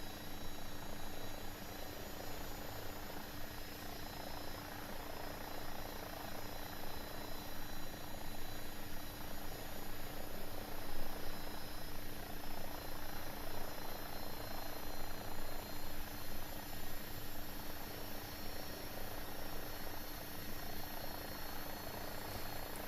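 An AW-109 helicopter in X-Plane 12 holds a constant, dense turbine whine and rotor drone for the whole stretch, steady and unbroken with no voices.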